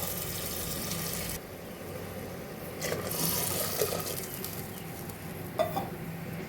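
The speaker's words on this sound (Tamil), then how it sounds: "தேங்காய் பால் எடுத்து வச்சுருக்கோம் பாருங்கள், அதை இப்போ சேர்த்துக்குவோம்." Water and coconut milk pour into a pot of rice for Ramadan coconut milk rice, a steady liquid splashing and gurgling that shifts in texture partway through, over a faint low hum of background noise.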